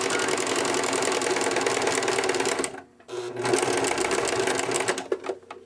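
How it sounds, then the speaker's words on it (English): A sewing machine fitted with a zipper foot runs loudly with a rapid mechanical chatter, pausing briefly midway before starting up again in short bursts. "I know my sewing machine sounds terrible."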